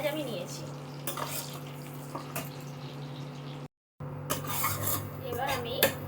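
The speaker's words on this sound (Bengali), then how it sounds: "এবার আমি পেঁয়াজটা যে ভাজা ভাজা হয়ে গেছে, এটা খুব বেশি ভাজবো না।" Onions frying in a pan with green chillies for a Bengali prawn malai curry, a steady rasping sizzle with stirring scrapes, close and continuous, briefly cutting out midway before resuming.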